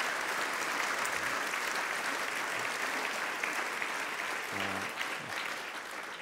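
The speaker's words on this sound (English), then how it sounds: "May as well applaud him." An audience applauds steadily and evenly for the whole stretch, a dense wash of clapping with a brief voice heard over it.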